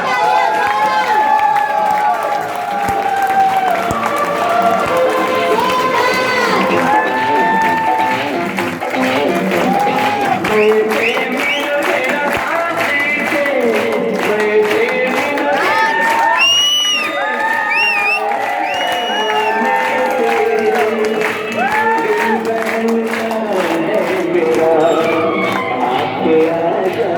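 A large crowd at a business event claps and cheers loudly for a top sales achiever, with whoops, shouting and excited voices rising over sustained applause throughout.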